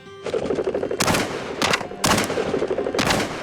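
Shotguns fired while pheasant hunting, four sharp loud reports spaced about a second apart, heard over rustling and faint outdoor background.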